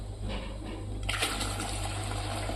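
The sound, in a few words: water poured into milk powder milk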